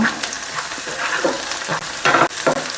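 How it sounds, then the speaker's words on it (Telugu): Chopped garlic, onions and green chillies fry in a pan for chilli chicken, with loud close sizzling broken by rhythmic spatula scrapes and stirring bursts. "గార్లిక్ చిన్న చిన్న పీసులుగా కట్ చేసుకుని వేసుకోండి ఆనియన్స్ మిర్చి వేయించుకోండి"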